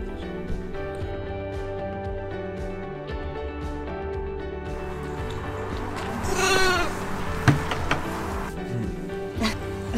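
Several wild goats bleat in wavering cries over a steady low hum, the loudest calls rising near the middle before fading into scattered background noise.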